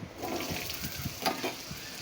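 Potatoes and pumpkin frying in a pan for an old-style Bengali chapor ghonto: a steady, close sizzle with soft crackles and stirring.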